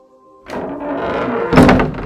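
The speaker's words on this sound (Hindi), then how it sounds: "उसने धीरे से दरवाजा खोला।" After a brief faint tone, a door creaks and shifts open with a low thunk, followed by a louder rattling clunk near the end.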